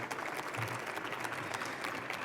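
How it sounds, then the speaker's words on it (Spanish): An audience at a Latin American education panel in Mexico applauds to welcome a UNESCO panelist, a steady, fairly close burst of many hands clapping without pause. "Un fuerte aplauso para recibirla en México,"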